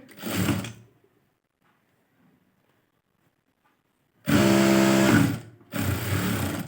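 A sewing machine stitching the lining of an embroidered blouse: a short burst of stitching, a quiet pause, then two louder close-up runs of rapid mechanical stitching with a steady whirring hum.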